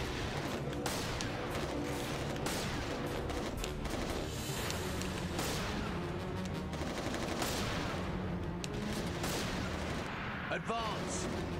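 Dense, continuous gunfire and explosions from the shooter video game Resistance Retribution, with rapid bursts and heavy booms packed together at steady loudness, a faint voice briefly audible in the mix.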